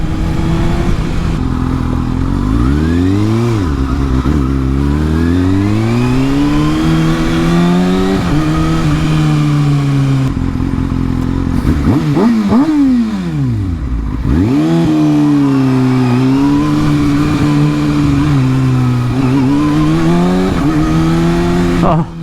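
A 2019 Kawasaki ZX-6R with a Yoshimura Alpha-T exhaust revs and accelerates through the gears, loud and close, engine pitch rising and dropping repeatedly with sharp shifts and throttle blips, a continuous roar throughout.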